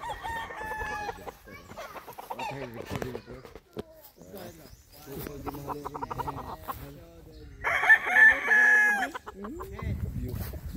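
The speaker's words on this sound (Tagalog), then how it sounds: "Ito yung mga manok namin. Ayan lahat. Sa amin yan. Mga breed yan." Gamefowl roosters on a farm crow and cluck in overlapping bursts, near and far. One loud crow stands out. Someone talks over the birds.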